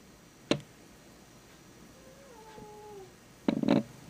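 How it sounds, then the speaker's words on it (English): A cat gives a drawn-out meow in the middle, framed by a sharp click near the start and a louder burst of noise near the end, all fairly quiet and close. "And you hear a cat."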